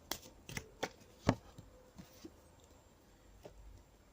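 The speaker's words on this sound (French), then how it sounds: "je vais tirer une carte pour le domaine sentimental" A tarot card is drawn from the deck during a cartomancy reading, giving a few soft, quick card snaps and shuffles close by, quiet and alone without talk.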